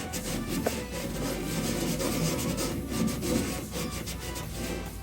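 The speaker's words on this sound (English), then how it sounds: "I'm gonna try to rub it out and get the Lamiseal off in these areas and see if this rust comes off" A hand scrubs rust and Lamiseal coating off a metal surface, producing continuous close, gritty rasping strokes in an uneven rhythm throughout, with no voices.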